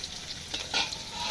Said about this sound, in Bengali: এখানে হচ্ছে শাক ভাজি, এটা নিচে শাক ভাজি